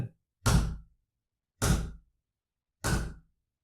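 Three heavy, evenly spaced thuds of knocking on a door in a horror story setting, each a single dull blow with a short decay, loud and close against silence.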